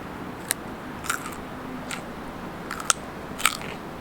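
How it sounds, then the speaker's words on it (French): Crunchy carrot being bitten and chewed close up, with several sharp, crisp crunches spaced irregularly over a few seconds against a quiet room background and no talking. "C'est croquant."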